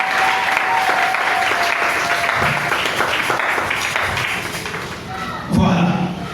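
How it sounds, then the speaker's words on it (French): A church congregation breaks into loud, dense applause, with hand claps and a few thumps carrying on steadily before fading slightly and swelling again near the end. "La grâce de Dieu, est-ce qu'on peut acclamer pour la grâce de Dieu?"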